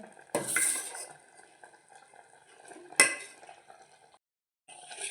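Amla and jaggery mixture stirred in a pan over a low gas flame, with two sharp clinks of a spoon against the metal and soft scraping between them, then a brief pause.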